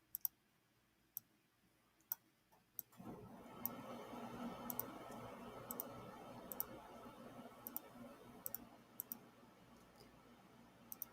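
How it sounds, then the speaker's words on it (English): Sharp computer mouse clicks tick out irregularly and close by, at first over near-silence and then against a steady background hiss, while someone browses through different sources. "I hear mouse clicking."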